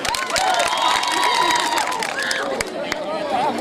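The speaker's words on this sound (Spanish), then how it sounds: "Un fuerte aplauso para él" A crowd claps and cheers together, steady and dense throughout, with a few voices calling out over the applause.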